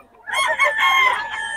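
A fighting cock crows loudly and close, one drawn-out crow lasting over a second with a wavering, strained tone, standing alone without talk.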